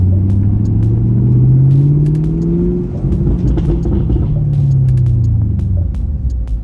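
Chevrolet Camaro SS 1LE with a Stainless Works axle-back exhaust in track mode, a loud deep V8 rumble that climbs and falls through two revving pulls while driving, heard close with no talk.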